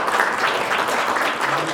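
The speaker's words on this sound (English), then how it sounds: "A round of applause for our panel." Audience applause for a panel at a local government conference, a dense steady wash of clapping filling the room without a break.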